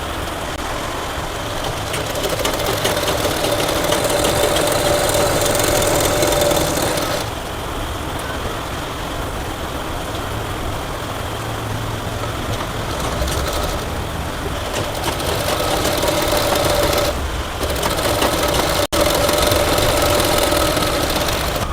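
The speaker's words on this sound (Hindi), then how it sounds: "इस तरह से हम इसका दामन फोल्ड कर लेते हैं और सिलाई लगा लेते हैं।" Electric sewing machine stitching the folded hem of a cotton kurti, a steady motorised whirr running almost continuously with brief pauses between stitching runs, close and fairly loud with no talking.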